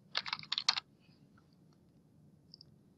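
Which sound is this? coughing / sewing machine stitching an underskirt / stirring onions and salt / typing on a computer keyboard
typing on a computer keyboard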